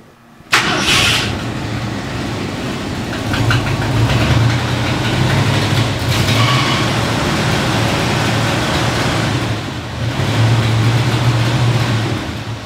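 A car engine with its ignition not yet tuned fires up abruptly, then idles roughly and unevenly, loud and close, with a lumpy, wavering rhythm.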